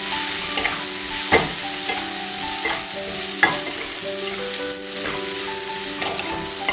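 Malabar spinach seeds stir-frying in spices with tiger prawn, a bright steady sizzle broken by repeated spatula scrapes and knocks against the pan, heard close with no talking.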